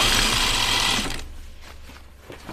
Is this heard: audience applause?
no